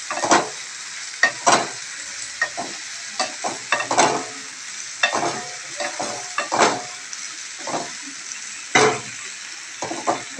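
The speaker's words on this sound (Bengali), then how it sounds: "মশলার পেস্টটা দিয়ে দেবো। তার সাথে গুঁড়ো মশলা অ্যাড করবো, এখন নয় আগে এটা দিয়ে ভালো করে ফ্রাই করে নিই।" Spice paste of tomato, black pepper and dried chili frying in a pan, a steady close sizzle with repeated stirring scrapes throughout, no talking.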